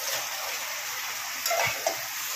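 Cauliflower tossed into spice masala frying in hot oil, a steady bright sizzle throughout with a few soft scrapes of stirring near the end, close and fairly loud, no talk.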